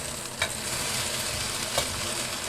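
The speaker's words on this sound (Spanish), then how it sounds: "lo dejamos un poquito, que se fría ahora ya todo junto con el tomate" Chopped tomato fries with softened onion and pepper in a pan, a continuous close sizzle marked by two brief sharper bursts as the mixture is stirred.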